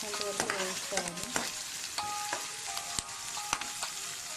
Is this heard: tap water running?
no